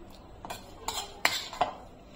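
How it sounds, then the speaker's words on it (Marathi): A spoon scrapes and clinks against a metal pan while bottle gourd halwa is scooped into a bowl, giving four or five sharp close metallic taps and scrapes at a quiet level. "आता इथे आपण वाटीत हलवा काढून घेऊ"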